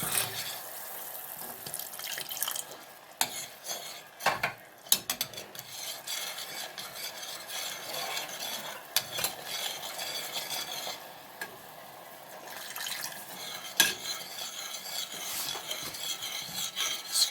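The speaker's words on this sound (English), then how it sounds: "Stir it in." A utensil scrapes and stirs through cooking golden syrup in a pan after boiling water is added, a continuous wet scraping and swishing with irregular knocks against the pan, close and steady, without talk.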